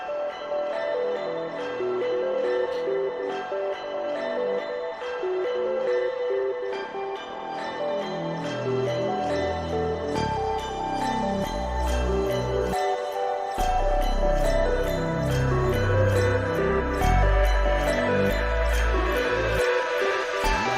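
A produced track built from Phase Plant synth presets, with bright bell-like plucked tones over pulsing deep bass notes that drop in and out, a steady electronic groove with no vocals.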